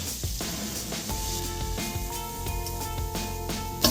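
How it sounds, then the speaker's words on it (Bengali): Minced garlic, ginger and chili dropped into hot oil for vegetable fried rice, giving a steady, close sizzle with a faint tonal hum in the background and no talking. "তেলটা গরম হয়ে গেছে, আমি এর মধ্যে রসুন, আদা আর লঙ্কার যে কিমাটা করে রেখেছিলাম সেটা আমি এর মধ্যে দিয়ে দিচ্ছি।"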